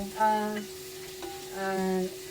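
Ginger sautéing in a pan gives a steady close sizzle, with two stretches of tonal hum and a brief clatter between them.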